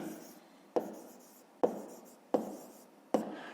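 A pen writes by hand on paper during a fifth-grade maths exercise, four sharp scratchy strokes each fading off, close and fairly quiet.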